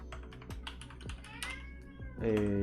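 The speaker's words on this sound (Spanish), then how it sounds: "Mi gato tiene hambre, así que está llorando." Hungry house cat meowing near a computer, a plaintive meow rising at the end amid light keyboard typing, fairly close and moderately loud.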